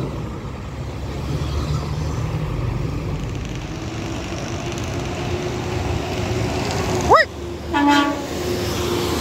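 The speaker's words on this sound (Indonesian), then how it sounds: "Berikutnya masuk lagi bus Murni Jaya" A Murni Jaya bus rolls past on the road with a steady engine rumble and road noise, then near the end sounds a loud rising horn blast followed by a shorter second toot.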